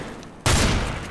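A sudden loud burst of gunfire from Counter-Strike: Global Offensive on the Nuketown map, a sharp onset after a quieter moment, then sustained blast and rumble for the rest of the second.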